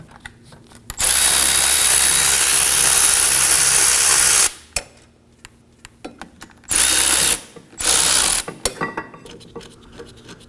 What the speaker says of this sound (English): Using a 14mm socket, go ahead and crack them loose.